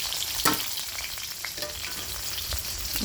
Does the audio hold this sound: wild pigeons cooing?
no